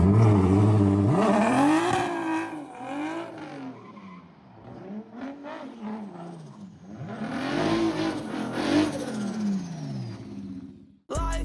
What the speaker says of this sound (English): Now it will be done and he'll go do a burnout for us.